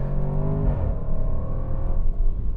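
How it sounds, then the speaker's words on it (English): Throaty exhaust of a 2018 Range Rover SVR in dynamic mode, a deep steady drone that drops in pitch as the revs ease off, then holds a low rumble close up. "I can hear that exhaust."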